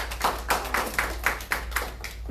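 Audience at a church session clapping hands in a steady rhythm, about two claps per second, moderately close and fairly faint, with a low hum underneath and no talk.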